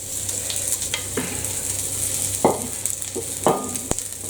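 Celeriac bubble and squeak patties, made with flint corn flour, fry in warm oil in a pan, giving a steady close sizzle broken by a few sharp taps and scrapes.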